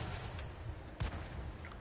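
A single sharp cannon blast from an FV101 light tank in a tank video game, a short booming crack around the midpoint standing out over low rumbling engine noise.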